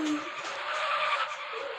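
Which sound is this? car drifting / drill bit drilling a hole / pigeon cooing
car drifting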